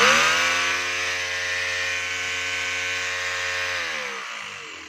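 A DeWalt D25032 rotary hammer runs steadily with a loud, even buzzing motor whine close by, holding constant for several seconds before winding down at the end. No one speaks.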